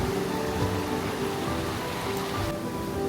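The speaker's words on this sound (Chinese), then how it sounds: "又下雨啦！" Steady rain falls at the Huanglong scenic area in western Sichuan, a dense, even hiss of drops on surfaces that holds constant from start to finish with no voices.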